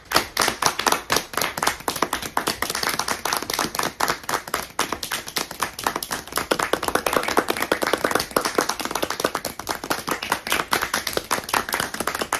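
Steady clapping from an audience at the 2023 Montgomery, Alabama Chair Awards, a dense run of sharp hand claps going on without pause for about twelve seconds, moderately loud and with no talk over it.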